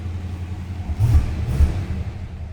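A 1964 Oldsmobile Jetstar 88 Celebrity Sedan's V8 rumbling at idle, then blipped twice in quick succession, each short rev swelling the low growl before settling back.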